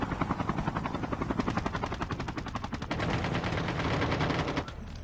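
Rapid automatic gunfire in the Squad military shooter game, dense bursts of shots close by with a helicopter-like rotor drone underneath, continuous and loud for several seconds.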